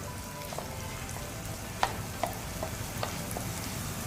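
Ground masala fries with onion and tomato in a pan, a steady soft sizzle running throughout with a few light clicks of a spoon against the pan scattered over it.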